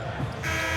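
At an NBA game between the Washington Wizards and Cleveland Cavaliers, the arena buzzer sounds to end the second quarter, a sudden sustained harsh tone cutting in over the crowd noise.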